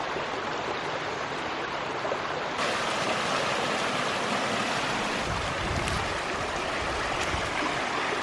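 Creek water flowing past a fallen tree, a continuous rushing wash, steady and close, with a brief low rumble partway through.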